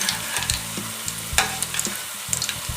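Food in a frying pan is stirred slowly, making a close, continuous sizzle broken by soft scraping strokes of the spoon, and no one speaks.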